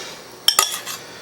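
Simmered garlic canned corn is tipped from a pan into a bowl, giving a few sharp, close metallic clanks and scrapes of utensil against dish with a quiet pause between them.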